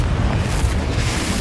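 A Confringo fire-spell blast in Hogwarts Legacy: a dense, loud rumbling boom that sustains evenly for the whole moment with no pause, thick in the low end.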